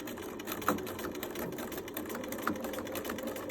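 A sewing machine stitches a quarter-inch seam with backstitching, a close, rapid mechanical whirring and clatter that runs almost continuously, with two brief louder knocks as the stitching changes direction.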